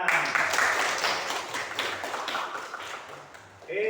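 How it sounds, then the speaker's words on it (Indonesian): Students in a classroom break into a short round of clapping, lively at first, then thinning and fading out. "Oke, tepuk tangan."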